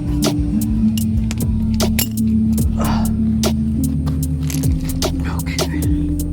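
Bolts being tightened on a 2023 Ford F-150 bumper: a steady run of sharp metallic clicks and clinks, close by, over a constant low hum.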